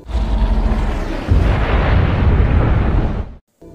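A powerful dynamite blast on a mountainside, one loud rumbling explosion with a second heavier surge, rolling on for about three seconds before cutting off abruptly.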